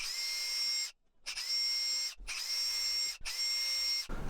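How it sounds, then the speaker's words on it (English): A power drill bores holes into a scrap-wood key rack, giving four close, steady whining bursts separated by brief stops. "Now I can drill out those holes"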